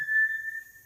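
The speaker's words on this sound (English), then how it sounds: "a butane soldering iron, and it makes that nice whistle noise when it's getting started" A butane soldering iron whistles as it lights, a single close, steady high-pitched tone that holds through the clip and fades slightly toward the end, with no voices.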